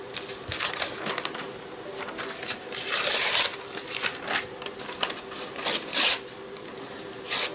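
Book-text paper torn by hand into long strips for collage, with several close, dry ripping sounds, some short and some drawn out, between quieter rustling.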